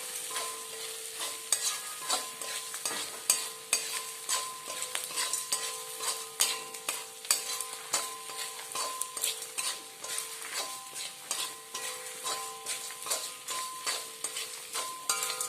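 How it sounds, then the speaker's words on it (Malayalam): A spoon stirs salted fenugreek seed uthappam batter in a metal bowl, a rhythmic run of close clinks and scrapes with a faint ringing tone, repeating steadily throughout. "ഒന്നും കൂടെ നമുക്ക് ഇളക്കി കൊടുക്കാം."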